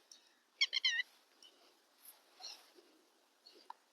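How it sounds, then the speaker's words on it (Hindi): Birds call outdoors among misty winter fields near a tubewell, a faint quick burst of chirping trills followed by sparse, soft, distant calls in otherwise quiet air. "बीच बीच में कुछ पक्षी भी बोल रहे हैं।"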